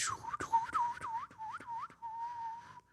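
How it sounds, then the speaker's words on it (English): A person whistles a short wavering tune, several quick rising-and-falling notes followed by one held tone, close and fairly quiet. "I just learned how to whistle."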